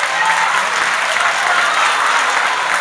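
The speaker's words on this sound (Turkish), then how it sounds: "Alkış olarak alayım, biliyorum diyenler." Loud, full applause from a studio audience on a Turkish television show, a thick continuous wash of clapping that stays even from start to finish.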